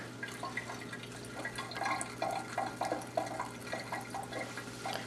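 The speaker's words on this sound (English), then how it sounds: "So there's water draining out there." Water drains from a Keurig 2.0 coffee maker, trickling and dripping steadily into a sink, a light irregular patter over a constant low hum, with no voices.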